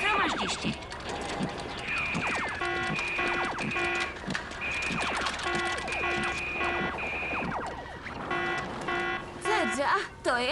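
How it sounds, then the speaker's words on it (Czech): Loud ship alarm bell sounding for the first lifeboat drill, repeated harsh buzzing rings in steady bursts, heard under and between voices talking. "to je ale hlasitý zvonek, sotva slyším, jak nemyslím"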